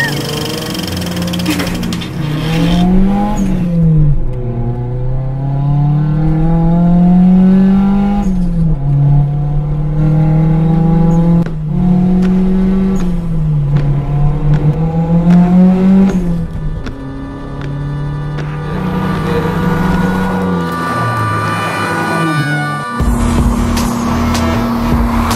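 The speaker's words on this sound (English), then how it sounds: "Drifting is a technique where the driver keeps the car in oversteer" A drifting car in Arizona revs hard and accelerates, its loud engine note sweeping up and down in pitch over a long, sustained run with brief dips between pulls.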